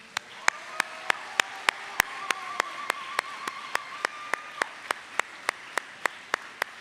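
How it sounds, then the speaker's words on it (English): Graduation ceremony audience standing to applaud the class of 2021: a steady, evenly spaced run of sharp claps in unison, roughly three per second, over a faint sustained tone and room hum. "would everyone please stand one final time and applaud the amazing class of 2021"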